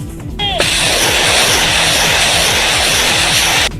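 Russian combat helicopter during a military drill, a loud, sustained engine roar with a rhythmic rotor throb that starts abruptly and holds steady before cutting off near the end.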